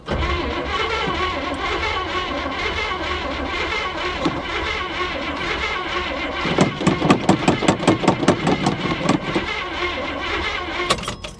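A 1970 Chevy Monte Carlo engine idles steadily, then cranks with a rapid rhythmic starter chug for several seconds that fails to catch, followed by a brief second burst of cranking at the end.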